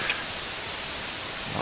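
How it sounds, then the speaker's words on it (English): Steady, even white noise hiss from a Feedback Versatile Noise Source generator, filling the whole range, constant and unchanging, with no other sounds. "This is a white noise."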